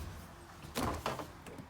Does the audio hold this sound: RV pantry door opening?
yes